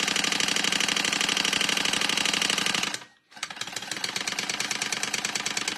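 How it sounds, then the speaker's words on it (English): A sewing machine stitches across the main panels of a crossbody bag, a loud, rapid, even mechanical rattle up close that stops briefly partway through and then resumes at the same pace. "turn it over or turn it around and sew down across on the main panels"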